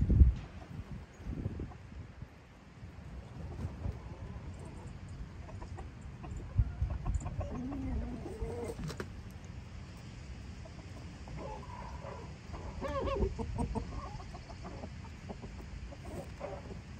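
Chickens, including roosters, cluck and murmur softly at a distance in breeding pens, with occasional brief calls over a quiet outdoor background.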